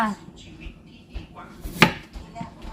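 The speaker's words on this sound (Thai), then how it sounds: "แครอทหั่นแบบนี้ไปแล้ว มันจะได้แตกต่างเนาะ" A knife chops carrots on a cutting board in a home kitchen, giving several uneven knocks with one sharper, louder strike midway, heard close up alongside faint kitchen clatter.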